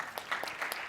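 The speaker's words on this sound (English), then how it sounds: "A round of applause for that." Faint, scattered audience clapping at a fitness industry summit, thin and sparse over about a second.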